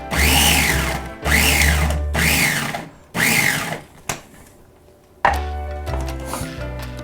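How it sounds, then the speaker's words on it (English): A food processor whirs in several loud bursts, roughly one second each, with short pauses between, then two more pulses at the end. "In the blender, food processor. We want to chop this up into small pieces."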